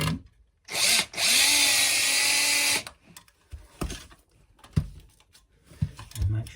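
A power drill drives screws to fix a double power socket to a wall: one short whir, then a longer steady burst of about a second and a half, followed by scattered light clicks and handling knocks.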